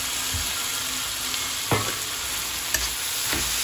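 Miso sautéing with tomatoes in a pan: a steady close sizzle and frying hiss, broken by a few scraping stirs of the utensil against the pan, with no talking.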